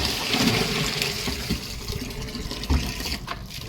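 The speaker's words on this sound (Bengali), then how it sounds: "পাম্পে জল উঠছে" An electric pump pushes water to fill for watering potted plants on a rooftop, giving a continuous rushing, gurgling flow with small irregular splashes, fairly close and steady throughout.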